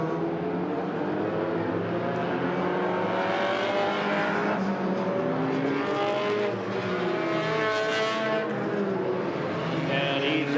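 Hornet race cars lapping Agassiz Speedway during an enduro, one with its muffler hanging and dragging on the track; a continuous loud engine drone with shifting tones as several cars run together, no voices.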